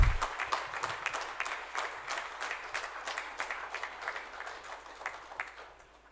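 Audience applause at the SJVN DRISHTI Conclave 2022, a steady wash of many hands clapping from a large seated crowd, fading gradually toward the end with no talking over it.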